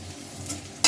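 Fried onions in hot mustard oil give a steady low sizzle while being stirred, ending in a sudden loud scraping burst of the spatula near the close.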